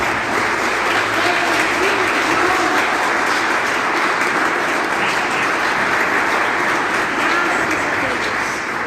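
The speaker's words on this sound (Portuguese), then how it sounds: "Vamos aplaudir a Jesus." A church congregation at a Sunday service claps loudly and continuously in a dense, sustained round of applause that fills the room from start to finish, with voices mixed in underneath.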